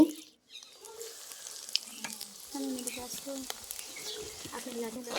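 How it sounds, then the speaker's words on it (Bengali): Chira (flattened rice) chops frying in oil, a light bubbling sizzle with gentle turning and scraping sounds, fairly quiet and close, with soft speech-like clatter mixed in. "হালকাভাবে নাড়াচাড়া করে এটাকে ভেজে তুলে নিচ্ছি"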